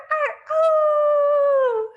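A person imitates a wolf's howl. One short yelping cry is followed by a long, loud, steady howl that slides downward at the end.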